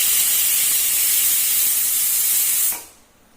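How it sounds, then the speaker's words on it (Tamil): A kitchen pressure cooker, cooking urad dal rasam, lets out a loud, sustained whistling hiss of escaping steam that cuts off sharply near the end, leaving a quiet room. "ஒரு விசில் வந்துடுதுங்க."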